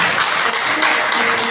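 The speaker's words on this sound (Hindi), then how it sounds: "एक बार जोरदार तालियों से स्वागत करें।" An audience applauds to welcome a guest during a Shri Ram Katha religious gathering at the Siddhpeeth Shri Talwadi Balaji temple, a brief, dense and steady wash of many hands clapping with no pauses.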